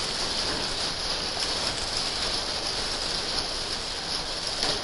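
Steady rain in a video game during a live stream, a dense continuous hiss with a soft patter that holds at an even, fairly loud level throughout, with no voices heard.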